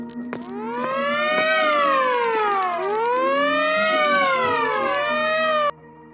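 Siren Head's siren from an animated horror story: a loud, continuous wailing siren with layered tones rising and falling in repeated sweeps for about five seconds, then cutting off abruptly.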